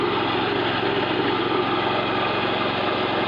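A steady, loud rotary mower engine drones without a break while cutting bushes, a continuous rough rumble from close by.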